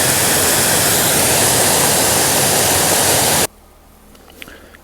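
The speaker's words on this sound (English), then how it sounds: "here's a pretty good waterfall" Copperbrook Falls, a waterfall along a hiking trail, roars as a loud, dense rush of falling water close by, then cuts off abruptly to quiet ambience near the end.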